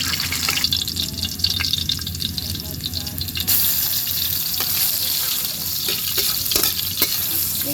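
Garlic sautéing in a pan for duck egg caldereta, a steady close sizzle and crackle with stirring, while a person talks over the cooking.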